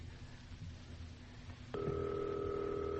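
A telephone in a radio drama starts sounding with a steady electronic tone that begins abruptly and holds, following a low background hum with no talk.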